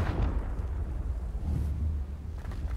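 Confringo explosive spell cast in Hogwarts Legacy, a sustained rumbling blast with heavy low-end roar and a brief crackling burst early on, loud and close, no talking.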